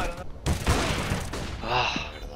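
Tech-9 submachine gun fire in a tactical shooter video game, a short burst of rapid shots mixed with game effects and a player's voice.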